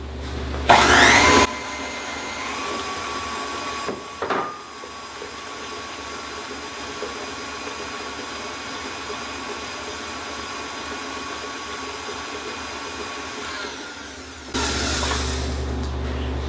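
An electric mixer whirs steadily through blueberry muffin batter after eggs are added, a continuous motor drone with a faint clunk partway through, starting and stopping abruptly at each end, fairly close with no talking.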